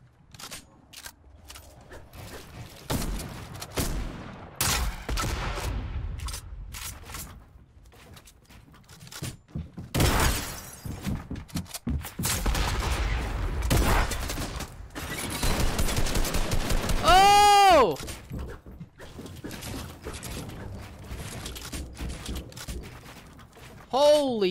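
Gunfire from another player in the video game Fortnite, bursts of shots and impacts scattered through busy game action, with excited talk running over much of it.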